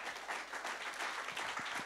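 A faint, distant wash of audience clapping at a talk event, even and continuous through the brief stretch with no voices over it.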